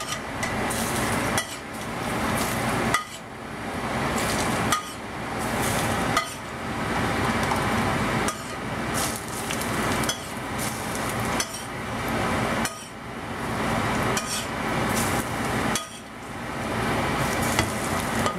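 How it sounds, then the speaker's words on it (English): Hot oil poured over steamed lobster with green onions and black bean meat sauce crackles into a loud, steady sizzle, broken by brief pauses and clinks of a pan every few seconds, with no talking. "Then you put the oil on top."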